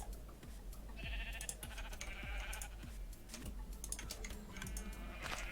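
Sheep bleat in a farming video game, several short mid-pitched calls layered over steady, close computer keyboard typing and clicking.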